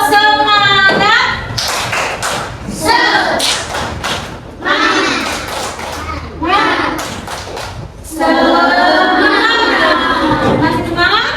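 Children in a classroom perform a rhythmic clapping routine, with loud, close thumps and claps in bursts mixed with young voices chanting and talking throughout.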